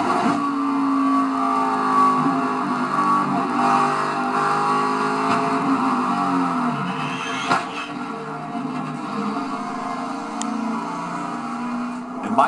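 A race truck engine drones continuously at close range from onboard during the 2012 Lucas Oil 150, its pitch rising and falling with throttle changes over a steady mechanical hum.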